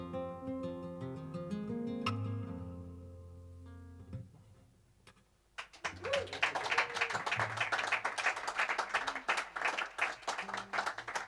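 Audience applause breaks out after a live performance at an intimate venue, a dense patter of clapping that rises suddenly and carries on steadily, following quieter music.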